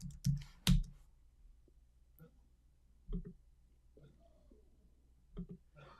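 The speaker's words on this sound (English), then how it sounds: "I'll type that here in the chat" Computer keyboard typing in a quiet room, a few scattered clicks and short bursts of keystrokes separated by pauses, close and fairly soft.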